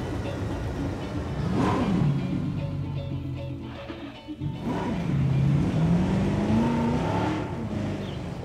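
A Jeep engine in the video game Jurassic World Evolution revs hard twice, its pitch sweeping upward and then falling back over a continuous motor drone, with no talking.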